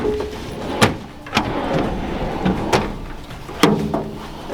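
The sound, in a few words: slide-out drawers in a vehicle camper setup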